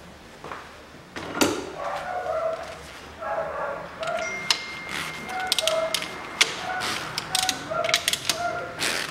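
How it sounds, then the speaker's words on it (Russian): A ratchet clicks rapidly in repeated runs while unscrewing the bolts and nuts of the cylinder head manifold on a 1999 Mitsubishi Pajero iO with a 4G93 engine, close-up, with metallic clanks between strokes. "Теперь откручиваем болты и гайки, крепящие коллектор головки."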